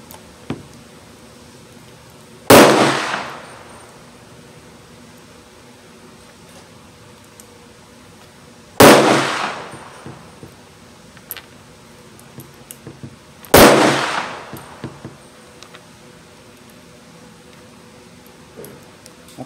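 Taurus Tracker revolver firing .22 Magnum rounds at an outdoor range: three sharp, loud shots spaced several seconds apart, each with a short ringing decay over quiet background.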